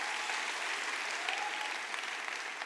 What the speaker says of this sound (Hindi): मेजर साहब के लिए जोरदार तालियां।